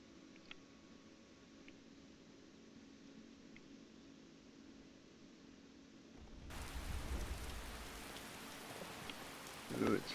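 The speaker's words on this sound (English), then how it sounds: "Ooh, it's raining. You want to be out here in the rain?" Rain falls in the video game Skyrim, a faint, steady hiss at first that swells into a fuller, louder downpour partway through, with a soft thud near the end.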